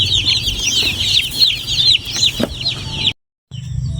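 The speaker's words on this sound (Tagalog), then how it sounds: "Maganda po ang sisiw." A brood of 150 day-old chicks in a brooding cage chirps continuously, a dense chorus of high peeps up close, briefly cutting out before resuming.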